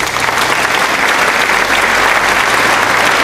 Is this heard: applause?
yes